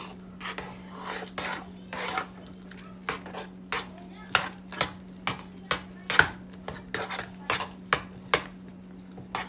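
A spoon stirs milk into mashed potatoes in a pot, making a quick series of soft scraping and clinking strokes against the pot over a steady low hum.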